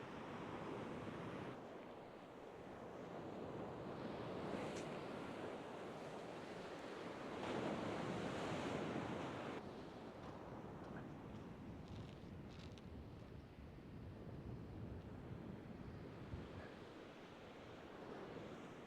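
Steady wind and surf roll along a breezy beach near a groyne while people fish, with broadband rushing noise, swelling gusts and wave wash throughout, close microphone buffeting and no speech.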